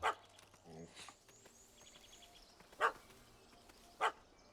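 Dog barking in The Witcher 3 video game, a few sharp isolated barks spaced a second or more apart over quiet ambient game sound.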